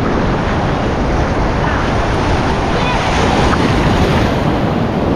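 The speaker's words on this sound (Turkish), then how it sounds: "Bakın bayağı bir dalgalı şu an." Rough sea waves break on a Phuket beach in Thailand during a storm, a loud, continuous roar of surf mixed with heavy wind buffeting the microphone.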